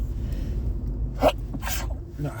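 A single short sneeze bursts out in the middle, close and sharp, followed by a breathy exhale, against a low background hum.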